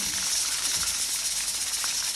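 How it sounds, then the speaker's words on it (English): Chicken deep frying in hot oil gives a steady, close, loud hiss of sizzling that runs without a break for the whole moment, with no talk over it. "Once you're not hearing that sizzling, that means my chicken has been cooked all the way through."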